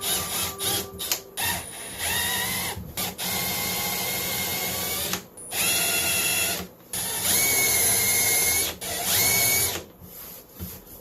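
A power drill cutting holes for a fly tying station whirs in long bursts, pausing briefly between runs as it bores through material, loud and close.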